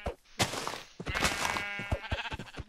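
Sheep bleating in the Minecraft video game, several short bleats in quick succession, fairly loud and close, mixed with other game sounds.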